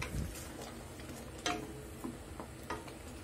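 Coconut halwa is stirred and roasted in a pan, soft sizzling under sharp clicks and taps of the spoon against the pan at irregular intervals, close by and without speech.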